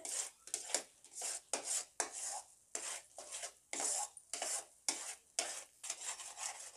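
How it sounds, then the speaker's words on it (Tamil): Thickened milk khoa being stirred in a pan while making homemade milk powder: a close, rhythmic series of scraping, rasping strokes about twice per second, each followed by a brief pause. "இதை இன்னும் கொஞ்ச நேரம் இருக்கட்டும்னு கிளறி விட்டுக்கினே இருக்கலாம். அடி பிடிக்காமல் பார்த்துக்குங்க."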